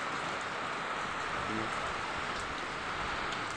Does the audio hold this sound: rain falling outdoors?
yes